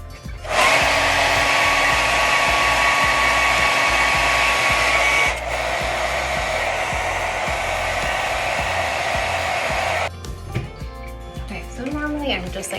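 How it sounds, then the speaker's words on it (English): A hair dryer blows steadily at close range for about ten seconds, shifting pitch midway, then cuts off as a person starts talking. "Maybe I'll get the dryer out."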